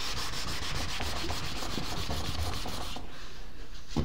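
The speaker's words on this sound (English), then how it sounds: "I just need to sand it a little bit." Sandpaper rubbing back and forth over a cut piece of material for a homemade hot wire styrofoam cutter, a steady close scratchy rasp in quick repeated strokes that stops abruptly near the end.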